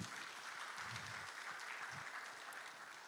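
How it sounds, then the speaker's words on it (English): An audience at a university e-learning week opening claps steadily, the applause faint and distant-sounding in a large room, with a few low thumps beneath it. "please applaud Professor Ike Duntri."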